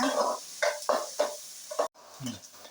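Chopped onions and small shallots being stirred and sautéed in a pan for a red amaranth stalk and coconut stir-fry, with several scraping stirs and a light sizzle repeating close by at a steady rhythm.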